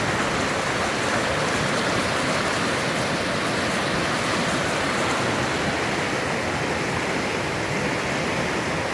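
Rushing creek swollen and still rising after rain, a constant dense broadband roar of flowing water, close and steady throughout with no talk over it.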